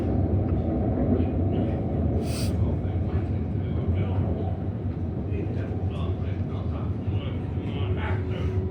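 A Melbourne Frankston line suburban stopping train gives a steady, loud low rumble from start to finish, with a faint murmur of voices over the running noise.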